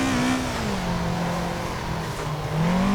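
A Toyota AE86 engine in Assetto Corsa holds a steady, loud drone while drifting, its pitch dipping slightly mid-slide before climbing again as the throttle comes back on.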